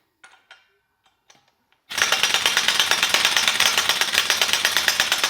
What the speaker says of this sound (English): took home a 3/4 inch air impact from work today with a 3/4 to 1/2 inch reducer on it